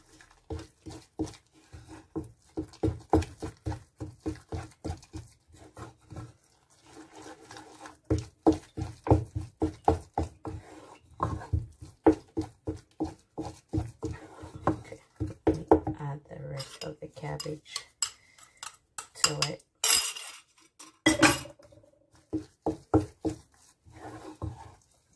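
Cabbage is mixed into oatmeal kenkey in a bowl, giving a long run of rapid, rhythmic scraping and knocking strokes of a utensil, close and steady, with a few pauses and sharper clatters.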